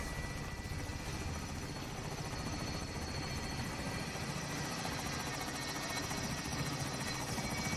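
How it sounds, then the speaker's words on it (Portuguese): A helicopter in the video game Call of Duty Warzone drones steadily with a loud, continuous rotor chop and engine whine throughout, with no pauses. "Vamos, helicóptero. Vem logo."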